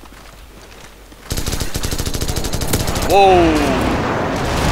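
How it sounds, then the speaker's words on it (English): Call of Duty 4 multiplayer combat: sustained rapid machine-gun fire rattles loudly, then jets scream past as an airstrike hits, all under a startled voice. "Friendly airstrike on the way."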